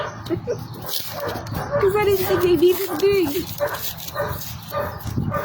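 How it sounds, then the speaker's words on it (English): Neighbor's dogs bark and whimper outdoors in a southern garden during blueberry planting, a steady yipping and howling chorus running under someone talking. "excuse my neighbor's dogs"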